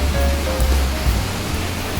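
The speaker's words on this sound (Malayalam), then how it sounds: "ഇതാണ് പെരുമൻകൂത്ത് വെള്ളച്ചാട്ടം" Perumbankuthu waterfall in the Mankulam area pours down in a continuous, dense roar of rushing water, loud and steady throughout with no voices.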